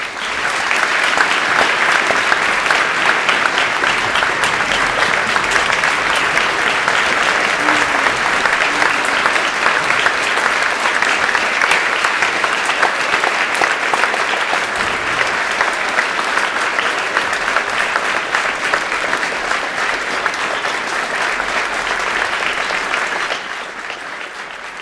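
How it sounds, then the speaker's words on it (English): A large audience at a high school Veterans Day celebration claps in long, steady, full applause for standing veterans, continuous for over twenty seconds before tapering off near the end. "Please join me in giving our veterans one final heartfelt round of applause"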